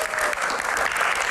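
Audience at a live Indonesian talk show Q&A breaks into steady, dense clapping that continues evenly throughout, full and close with no voices standing out.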